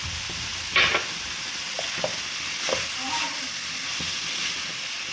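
Chili flakes and spices sizzle steadily in a pan for spaghetti, with a few sharp clinks and scrapes of a spoon stirring over the continuous frying hiss.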